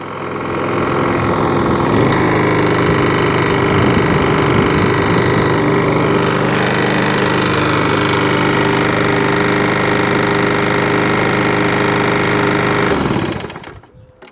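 A Toro lawnmower with a Briggs and Stratton engine running close and loud, a steady throbbing drone that drops to a lower idle partway through before shutting off at the end.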